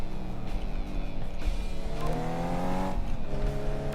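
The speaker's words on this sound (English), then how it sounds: "This car is pretty loud." A loud Mercedes-Benz engine in the Car Mechanic Simulator 2015 game drones and revs steadily, shifting in pitch as the car drives, with no talk over it.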